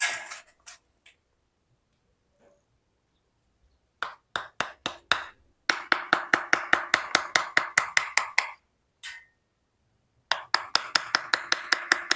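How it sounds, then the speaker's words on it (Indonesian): A chisel struck against the trunk of a waru (sea hibiscus) bonsai, making sharp, close hammer-like taps: a few scattered hits, then quick rhythmic bursts of a dozen or more strikes separated by short silences. "Jadi ini akan kita pahat seperti ini ya sobat bonsai ya"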